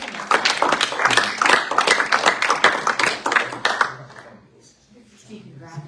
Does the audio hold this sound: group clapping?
yes